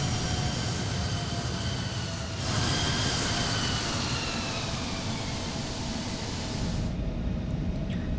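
Airliner jet engines in the E-Jets flight simulator spool up for takeoff, a steady loud roar with rising whine tones that builds and then holds.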